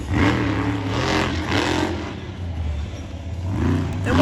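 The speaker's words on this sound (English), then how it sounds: "monster trucks, they still sound so good. Just listen to it." Monster truck engine at a Monster Jam event in Salinas revving in loud bursts, a deep roaring motor surging several times over a few seconds, close and prominent.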